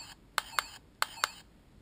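Two pairs of tiny electronic clicks from a toy phone's camera shutter, each double click sharp and close but quiet, with a faint hiss between.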